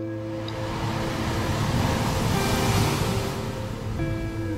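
Sea waves wash in a steady, broad roar of surf that swells toward the middle and eases off, with no voices.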